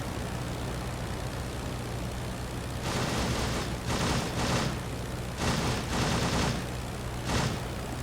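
Machine gun bursts in the Rise of Flight WWI air combat game rattle in several short volleys over a constant engine drone, each burst lasting around half a second, fairly near and moderately loud.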